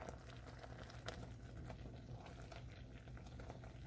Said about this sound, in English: So I'm just going to keep stirring this and checking my time.